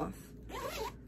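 A cloth zipper on a Stephanie Dawn bag is pulled in one quick rasping stroke, close and distinct over a low background hum.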